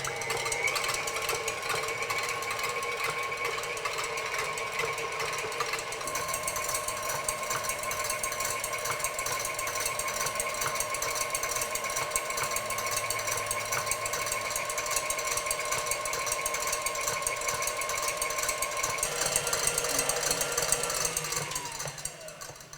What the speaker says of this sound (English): Now I have my 6 egg whites and I am going to mix it on medium